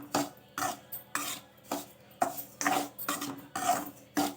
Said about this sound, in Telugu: ఒక చిన్న స్పూన్ అంత ఆయిల్ వేసుకొని మనము బొంబాయి రవ్వని కొంచెం దూరగా వేయించుకోవాలి